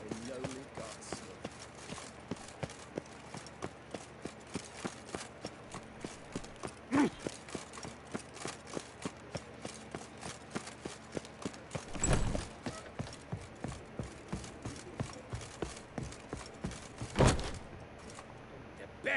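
A horse gallops in The Witcher 3 video game, a steady rapid clip-clop of hooves throughout, with a few louder thumps and bursts breaking the rhythm.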